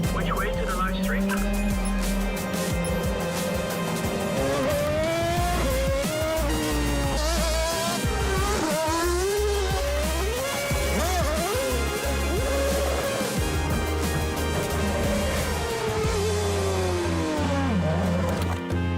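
A Red Bull RB18 racing car drives hard, its engine revving up and down in rising and falling sweeps with skids, loud and continuous, with people talking over it.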